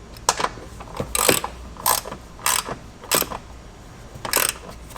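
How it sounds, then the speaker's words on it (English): Ratchet tightening the three top bolts on Ohlins coilovers fitted to a BMW M2 F87, heard as about seven short, loud bursts of rapid clicking with brief pauses between them, no voices. "Tighten up the top bolts. I like to tighten them up zigzag pattern, since there's 3 of them."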